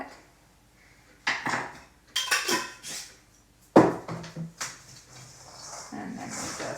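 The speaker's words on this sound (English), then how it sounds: "And then we just mix it up, make sure it's well distributed." A spoon scraping and clinking in a bowl while tempeh starter is mixed into cooked beans, in irregular bursts of stirring with a sharp knock partway through, close and moderately loud, with no talk.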